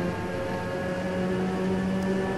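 A steady engine drone with a constant harmonic whine, continuous and fairly loud, from a Puma P052 race car in onboard view in the racing game Automobilista, with no talking.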